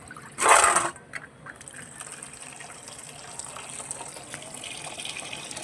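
Cold water runs briefly over soybeans set to soak, a short loud gush near the start that fades into a faint steady trickle and low background hiss.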